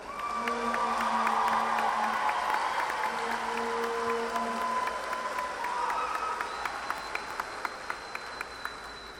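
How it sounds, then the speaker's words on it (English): A large crowd at a college commencement ceremony applauds the graduates with steady clapping, cheers and a few whoops, the sound gradually thinning out over several seconds. "Let's give them another round of applause."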